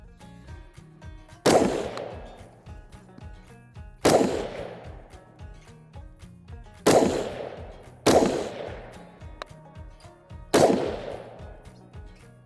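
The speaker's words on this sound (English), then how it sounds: "Just shot that 5-round group." Five loud, sharp rifle shots from an X2 Dev Group AR-X firing a 69 grain group, spaced about two to three seconds apart, each crack followed by a ringing decay, with no voices.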